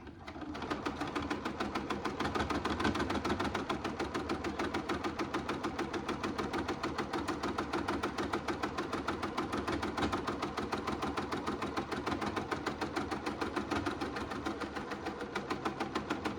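A sewing machine stitching fabric for cozy bowl warmers, a fast steady mechanical rattle of needle strokes running evenly for a long stretch, close and clear with no talking.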